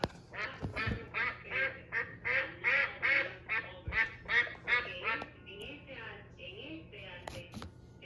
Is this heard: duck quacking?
yes